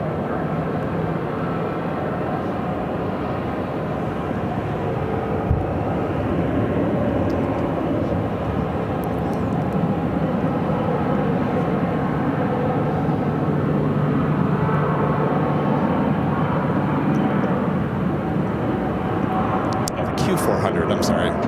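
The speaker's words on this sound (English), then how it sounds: "now we have takeoffs happening on 25 right, arrivals on 25 left here on the south side" A Q400 turboprop takes off from runway 25 right at Phoenix airport with a loud, continuous engine roar and rumble throughout, while a person talks over it.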